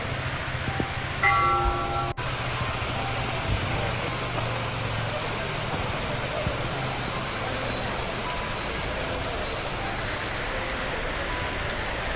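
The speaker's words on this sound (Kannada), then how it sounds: "ಮಳೆ ಬಂದು ಇನ್ನೊಂದಷ್ಟು ಕಳೆ ತಂತು" Steady rain falls throughout at the open-air Sowthadka Ganapati temple, a dense hiss of drops on surfaces, with a temple bell ringing briefly near the start.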